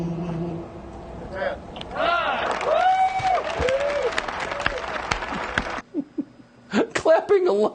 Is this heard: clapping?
yes